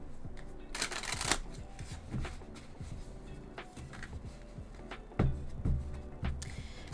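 An oracle card deck is shuffled close by in repeated riffling bursts and soft slaps of cards, with a louder cluster of shuffles near the end.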